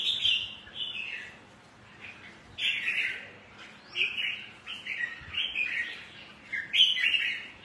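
A caged songbird sings in bursts of bright, trilling phrases, repeated with short pauses between them against faint background noise.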